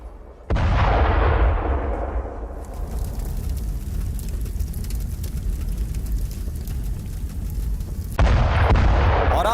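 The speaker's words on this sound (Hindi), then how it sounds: "ड्रोन से रूसी सेना की बारूदी बौछार, हमले में यूक्रेन का BTR-4 वाहन तबाह हो गया" Explosions from a Russian drone attack on a Ukrainian BTR-4 armoured vehicle in Donetsk: a sudden loud blast followed by a long rumbling roar, then a second heavy burst near the end.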